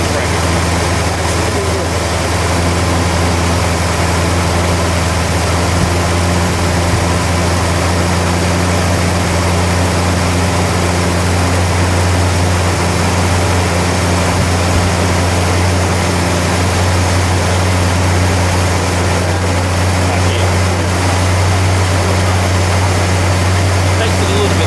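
A 1970 Mercury Cyclone's 429 Cobra Jet V8 runs with a steady, loud, low rumble and droning hum, holding an even idle for the whole stretch without a break.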